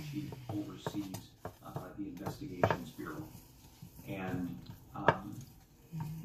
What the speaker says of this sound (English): let's just give it a quick little stir